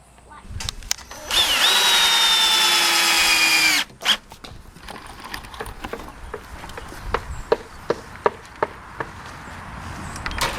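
Power drill driving 2.5 inch screws into a wooden rabbit hutch: one sustained whining burst of about two seconds that rises then cuts off, followed by quieter knocks and clatter of handling wood.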